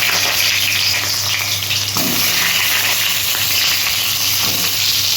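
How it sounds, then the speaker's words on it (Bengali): Pointed gourd (potol) frying in hot oil gives a loud, continuous sizzle with a few light stirring knocks, and no one speaks. "পটলগুলো, আমি একটু ভেজে নিচ্ছি।"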